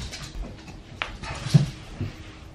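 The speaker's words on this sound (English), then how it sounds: "Dogs everywhere." Dogs at a parents' house give a few scattered, fairly close whimpers and a short yip over background room noise, with no talking.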